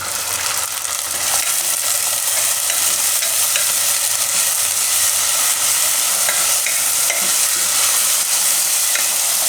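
Pigeon peas and green garlic sizzle steadily in hot oil in a pan for a Gujarati methi, tuvar, brinjal and potato shaak, a loud, even frying hiss that runs throughout with no voices.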